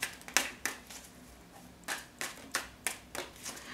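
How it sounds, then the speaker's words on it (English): Tarot cards are shuffled by hand in a series of crisp, irregular riffles and taps, close up and fairly quiet, with no voices. "let me just give one more shuffle."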